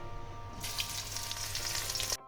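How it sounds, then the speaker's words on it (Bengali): Bitter gourd pieces sizzle loudly in hot oil for Bengali tetor dal, a steady bright hiss beginning after a quiet low hum and cutting off abruptly near the end. "এবার আমি উচ্ছেটা ভেজে নেব।"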